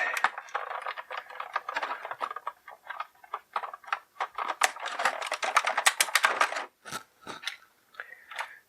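Small snips clip through plastic ties holding a NECA Teenage Mutant Ninja Turtles Shredder and Krang figure set in its packaging, giving a fast run of sharp clicks and rattles up close, no talking.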